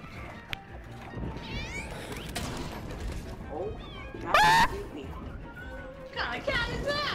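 Cats fired as projectiles in the game LittleBigPlanet 3 let out several rising, warbling meows scattered across the stretch, one sharp loud burst midway, mixed with game thumps and people talking over them.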